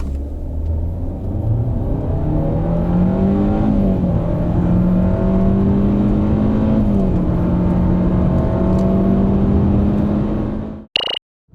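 A 2020 Hyundai Avante 1.6 (CN7) with a continuously variable transmission accelerating hard in a performance test, its engine droning loud and steady with a slowly rising pitch for about ten seconds before cutting off abruptly.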